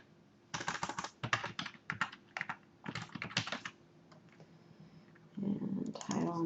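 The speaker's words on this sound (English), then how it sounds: "I'm just going to type somebody in." Typing on a computer keyboard in quick irregular bursts of clicks, close and fairly quiet, with brief pauses and a short stretch of soft talking near the end.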